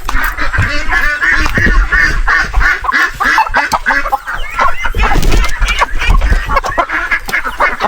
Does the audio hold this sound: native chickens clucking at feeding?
yes